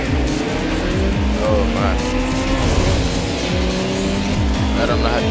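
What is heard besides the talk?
car drifting with tire squeal in video game Ridge Racer Driftopia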